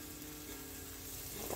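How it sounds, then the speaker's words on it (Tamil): Small onions frying in hot oil in a pan, a steady soft sizzle with faint stirring scrapes near the end, no voices. "நல்லா எண்ணெயில நல்லா ஃப்ரை பண்ணிக்கோங்க"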